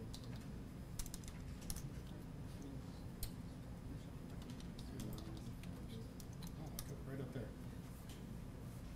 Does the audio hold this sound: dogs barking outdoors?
no